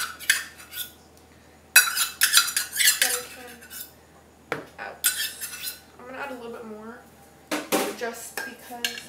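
A utensil scraping and clinking against a mixing bowl while half a cup of coconut oil is scraped in, several separate bursts of scraping with quiet pauses between, close and clear.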